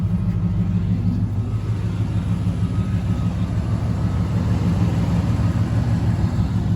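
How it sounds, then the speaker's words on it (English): A car engine running loud and close as a steady low rumble, with only slight swells in level and no clear sharp rev peaks. "we'll give it a couple revs."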